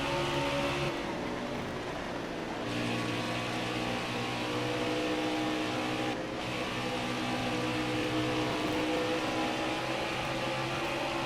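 Race cars in NASCAR Heat 4 at Dover, a steady, loud layered engine drone with sustained tonal whine throughout, shifting slightly as cars pass, no talking.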